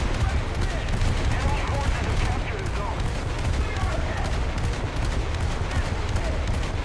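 Naval gunfire from warship turrets in a US coastal-ship video game, a dense continuous rumble of booming shots and fusillade filling the whole stretch at steady loudness, with some voice mixed in.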